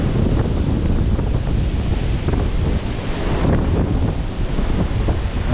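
Strong gusts buffet the microphone at Boracay beach, and surf rolls in underneath with a constant heavy roar of wind and waves, loud and unbroken throughout.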